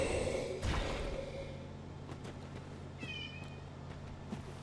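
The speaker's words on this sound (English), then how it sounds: "If you hear meowing, my roommate's cat is just outside the door" A roommate's cat meows outside a door, a soft, somewhat distant call or two beneath quiet background noise from a Dark Souls 3 game session, with no talking.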